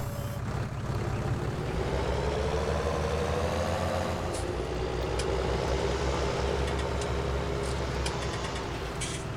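A tractor engine runs steadily in a farming simulator game, a loud continuous low drone with a rising mechanical whine partway through and a few faint clicks, no talking.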